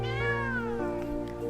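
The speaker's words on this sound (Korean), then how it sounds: "약을 찾아 역을 기웃기웃거리다 고양이 한 마리를 발견하게 됩니다." A cat meows in the railway game Beholder Conductor, a single drawn-out, clear meow that rises then falls, close and prominent against a low steady hum.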